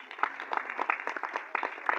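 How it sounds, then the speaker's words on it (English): Audience applause at a song launch event, a fairly quiet burst of clapping with individual claps audible in an uneven, fluttering patter. "We must give him a huge round of applause."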